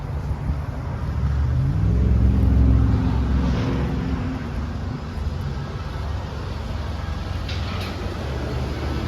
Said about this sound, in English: this do not add any horsepower to go straight pipe. It just make the car louder.